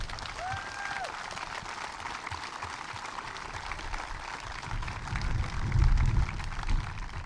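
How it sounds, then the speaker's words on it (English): A crowd applauds first responders at a live outdoor honoring event, a steady broad wash of clapping that swells toward the end, with a brief whistle-like tone early on. "give all of our first responders a round of applause"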